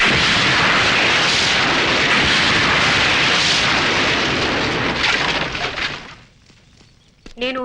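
Diwali firecrackers and bombs going off as a continuous dense roar of crackling blasts, loud and close, which thins out near the end before a short whistling burst.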